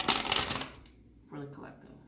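Tarot cards are shuffled up close, a quick papery riffle and flutter for under a second, followed by a short quiet gap and a brief voice.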